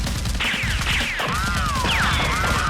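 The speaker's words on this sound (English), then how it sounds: "Tony turns around and shoots at the gangsters. They return fire." Nerf guns firing during a Nerf war, several rapid popping shots in quick bursts with whistling, swooping darts close by, dense and busy for the short span.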